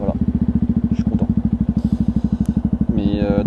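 Yamaha WR125X motorcycle with its exhaust baffle removed, idling and blipping in a rapid, loud, steady pulsing thump close by, with a brief rev rise near the end.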